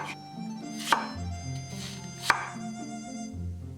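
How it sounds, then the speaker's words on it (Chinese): Yam sliced into thick pieces with a kitchen knife on a board, two sharp chops about a second and a half apart, close and clear. "山药也切成厚片"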